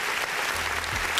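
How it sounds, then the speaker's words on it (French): Brief burst of audience applause, a dense patter of clapping that lasts about a second, fairly loud and alone. "Donc déjà, on applaudit pour cette prouesse technique."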